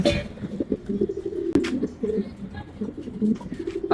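Racing pigeons back at the loft after a training toss, cooing in overlapping low bubbling calls close by, with a sharp click midway and faint rustling around them.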